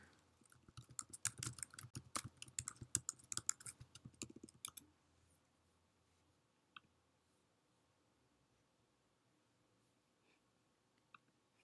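Rapid computer keyboard typing for a quick message, a dense burst of clicky keystrokes for about five seconds, then near silence with a couple of isolated taps.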